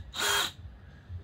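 A power drill bores freehand into an SUP paddle board, one loud high-pitched whine of about half a second that starts and stops abruptly, followed by quiet.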